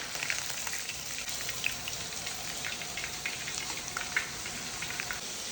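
Fish fries in oil on a dosa pan, a soft steady sizzle with scattered light crackles and pops, fairly quiet and continuous with no talking.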